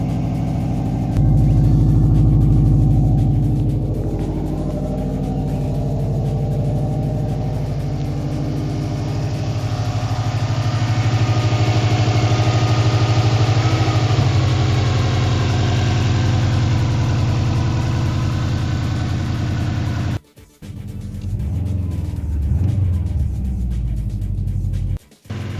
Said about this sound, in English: Amazingly, the car starts, so that's good. And it doesn't, the only thing that I can hear right away is a leaky exhaust